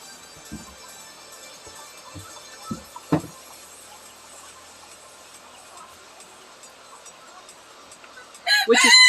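Chickens in a barn give a few soft, scattered clucks and light patter, then a rooster crows loudly and close near the end.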